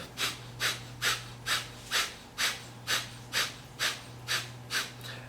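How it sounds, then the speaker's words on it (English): Forceful rhythmic exhales through the nose, about eleven evenly spaced sharp breaths over five seconds, with navel pumping during a breathing exercise meant for emotional release. Close and clear, with a steady low hum beneath and no talking. "then we're going to be breathing, focusing on the breath out. The breath in through the nose will come automatically."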